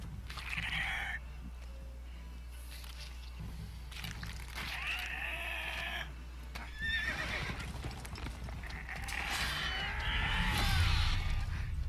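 Horses in The Witcher 3: Wild Hunt whinny repeatedly over a steady low in-game ambience, with hoof clip-clops in between; the neighs are loud, close and come in several drawn-out bursts.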